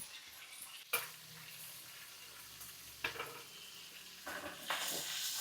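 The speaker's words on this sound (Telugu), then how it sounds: "అందులో కరివేపాకు కొంచెం పచ్చిమిర్చి అది కొంచెం దోరగా వేగాలన్నమాట" Curry leaves and green chilies fry in oil with a quiet, continuous sizzle, broken by three or four brief knocks and scrapes of a utensil in the pan.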